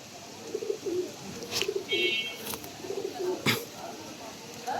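Teddy pigeon chicks cooing softly nearby in repeated low murmuring phrases, with a few brief sharper noises in between.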